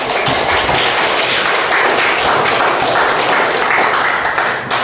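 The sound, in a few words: applause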